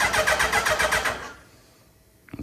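A turbocharged Hayabusa motorcycle engine being cranked over, a rapid rhythmic churning of the starter that runs for about a second and a half before stopping, followed by a faint click.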